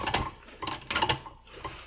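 Bolts on an XJ40 are tightened down with a ratchet, a close, brisk series of clicking pawl sounds coming in uneven bursts over about two seconds.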